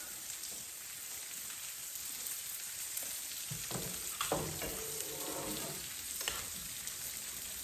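Sausage frying in a pan makes a faint, steady crackling sizzle that stays low and continuous, with a few soft clinks and stirring noises partway through.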